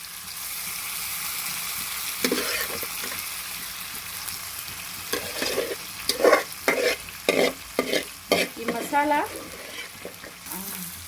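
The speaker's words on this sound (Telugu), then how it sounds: "ఇలా మసాలా చికెన్ని ఫ్రై చేసుకోవాలి ఫ్రెండ్స్" Masala chicken frying in oil in a kadai for Andhra-style kadai chicken fry, a steady soft sizzle under clattering stirring strokes that grow louder and more frequent toward the end.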